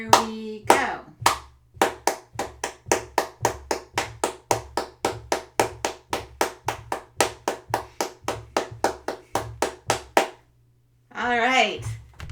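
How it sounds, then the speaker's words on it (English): Crisp hand claps ring out in a steady, evenly spaced run of about thirty during a music lesson, paired with soft low foot beats; a voice speaks briefly before and after. "Now we're going to double our hand claps, but we're going to keep our feet the same"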